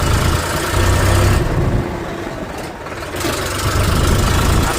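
Eicher 551 4WD Prima G3 tractor engine running in third gear, a loud continuous low diesel rumble with knocking texture that dips briefly midway before returning, heard up close without voices.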